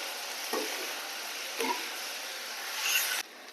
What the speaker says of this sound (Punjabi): ਹੁਣ ਪਿਆਜ਼ ਭੁੱਜਦਾ ਵਾ